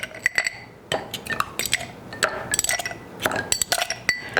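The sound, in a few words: ice clinking in glass for Bloody Mary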